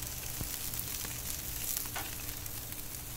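Bacon and breakfast food sizzle steadily on a Blackstone 22-inch griddle, a constant close frying hiss with a few faint scrapes and no talk.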